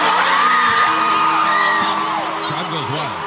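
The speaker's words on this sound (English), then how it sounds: "Crowd goes wild." A loud protest crowd at a No Kings rally against ICE cheers, whoops and yells together, sustained shouting voices filling the space close by with overlapping cries.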